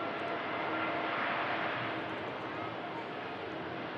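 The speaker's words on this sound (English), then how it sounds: "another TUI Dreamliner departs on 23 left." A TUI Boeing Dreamliner departing on runway 23 left, its jet engines producing a loud, continuous rushing roar that holds steady throughout, with a voice talking over it.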